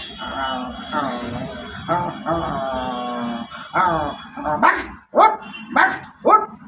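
A comedian on stage imitates a barking dog with his voice, giving a run of sharp yelping barks that grow into several loud, spaced woofs toward the end, mixed in with his speech.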